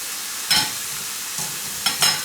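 Freshly picked wild mushrooms fry in a pan under a soft, steady sizzle, punctuated by three or four brief, crisp bursts as they are stirred or turned.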